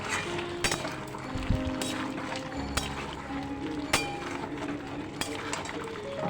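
Mutton cooks with papaya pieces in a covered pan, a low frying sizzle with scattered clinks and knocks of a lid and utensil against the pan, fairly close.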